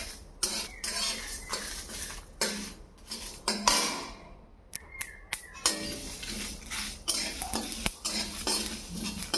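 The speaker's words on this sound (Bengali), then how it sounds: "লো করে নিয়ে আস্তে আস্তে সবগুলো উপকরণ ভেজে নেবেন" Spices for mango pickle fry on low heat in a pan while a metal spoon stirs, producing irregular clinks and scrapes over a soft frying hiss, fairly close with no talking.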